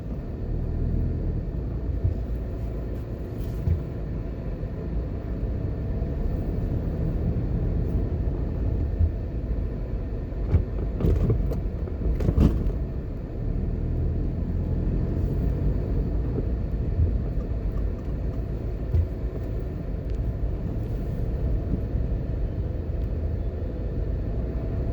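A car drives through the courtyard of the Wyndham Hotel in New Kingston, Jamaica, giving a steady low engine and road rumble with a few brief louder swells midway, continuous and fairly close throughout.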